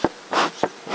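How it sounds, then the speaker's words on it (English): Honey bees buzz around an open hive box while frames are worked and smoke is applied. Loud close buzzing rises and falls in several swells over a second, with no talk. "so I'm going to smoke the top bees a little bit."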